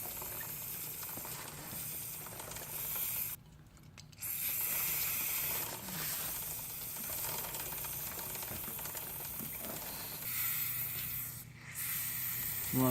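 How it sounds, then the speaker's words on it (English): Degreaser sprayed onto a bike drive chain as the chain is moved, a steady close hiss running for most of the stretch with two short breaks, over faint mechanical ticking. "you're gonna get degreaser and spray it onto the chain"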